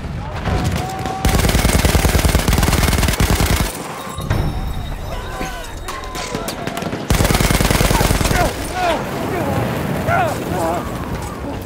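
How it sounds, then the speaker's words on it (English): Rapid bursts of machine-gun fire in a first-person war video game, loud and close, coming in two sustained volleys with explosive booms and scattered battlefield noise between them. "There's an enemy machine gun!"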